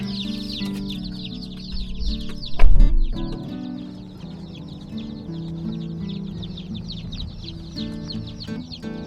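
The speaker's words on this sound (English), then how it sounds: "Let's get the old chickens out of the barn so we can hear ourselves" Many old egg-laying chickens in a barn cluck and squawk continuously, loud and close, with a brief louder thump partway through.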